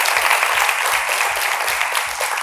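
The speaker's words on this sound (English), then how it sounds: "Please give her a round of applause." Audience giving a round of applause for a woman in a board-building team exercise, a dense, continuous clapping that stays fairly loud and even across the brief stretch.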